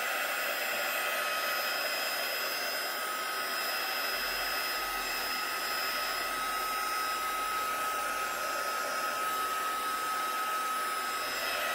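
A heat tool blows a steady, loud whooshing hiss while drying distress ink on thin card over a heat-proof mat, unbroken and close for the whole stretch.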